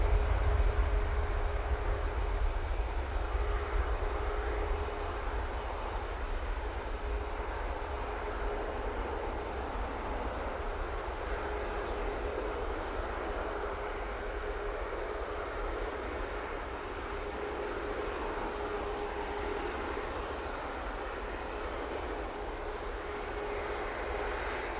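An Etihad airliner flares for landing at Manchester Airport, a steady broad jet roar that is strongest at the start and then eases to a constant distant rumble.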